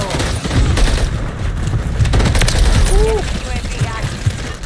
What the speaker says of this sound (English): Hostile launched a cruise missile.